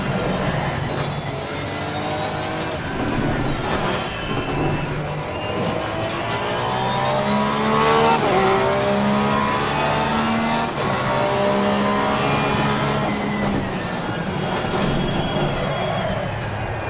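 Porsche race car engine in Assetto Corsa Competizione, held at high revs through steady rising and falling gear sweeps, loud and continuous for the whole stretch, with faint talk underneath.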